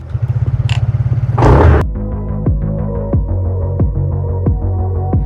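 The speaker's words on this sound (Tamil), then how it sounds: "இந்த வண்டியோட எக்ஸாஸ்ட் நோட்டை நீங்கள் கேளுங்க." A TVS Ntorq 150 scooter's small engine exhaust putters close by, a rapid throb then a sharp burst, followed by a steady idle with rhythmic popping pulses.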